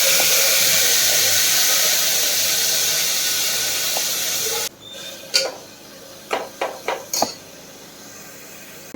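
Spinach and fenugreek leaves fry in a pan with a steady hiss for several seconds, which then cuts off and gives way to a handful of sharp metallic clinks and taps from a utensil against the pan.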